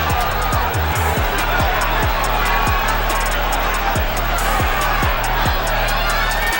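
A large boxing-match crowd in an arena for Meldrick Taylor vs. Julio Cesar Chavez roars continuously and loudly, with repeated thumping impacts cutting through the steady crowd noise.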